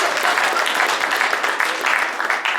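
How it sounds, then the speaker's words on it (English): Dense audience applause at a chamber of commerce recognition banquet, steady and fairly loud throughout the short stretch with no talking over it. "Give your friends a round of applause."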